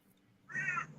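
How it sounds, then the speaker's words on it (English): A single bird call, harsh and crow-like, rings out fairly close and loud in the second half, rising above quiet room noise. "That sounded like a bird or something."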